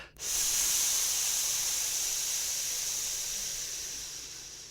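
A person exhales a long, steady hiss through clenched teeth, imitating steam escaping, as a lung healing breath exercise; the sound starts abruptly, stays close and loud, and fades slightly toward the end.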